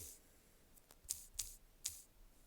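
Several sharp keyboard keystrokes in a quiet room, three louder clicks spaced unevenly over a couple of seconds among fainter taps, no voices.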